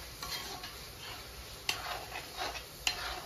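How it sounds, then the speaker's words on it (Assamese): A spoon stirs cooked food in a pot for a Bihu special home meal, giving soft scraping and a few sharp metallic clinks, quiet and close, with faint sizzling underneath. "নমোৱাৰ পিছত এবাৰ লৰাই দিছোঁ"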